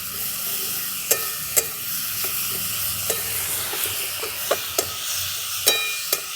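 Ginger, chilli and garlic paste with spices stir-fried in hot oil, a continuous loud sizzle and hiss with sharp, irregular clinks of the spoon striking the pan, close and without speech.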